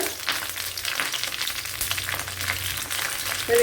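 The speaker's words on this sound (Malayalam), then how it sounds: "അതിലേക്ക് ഇനി കറി ലീവ്സ് ഇട്ട് കൊടുക്കുക" Curry leaves hit hot oil already holding two or three dried red chillies while tempering a Kerala sadya banana pachadi, giving a steady close-up hissing sizzle that holds throughout with a faint stir near the end.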